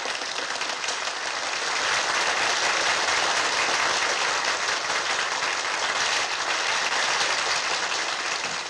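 A studio audience at a 1957 German television talent show gives sustained, dense applause welcoming a young singer, steady and loud throughout with no talk over it.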